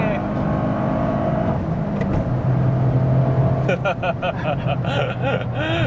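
Toyota GR Corolla fitted with an A'PEXi exhaust accelerating hard, a loud, steady engine roar that rises with revving, with excited voices talking over it in the second half.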